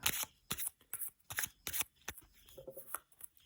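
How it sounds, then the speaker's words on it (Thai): Tarot cards are drawn and turned over in quick bursts of close, crisp card swishes and snaps, several in a row with short gaps between them. "จะเปิดไพ่ให้ สามใบเนาะนะคะ"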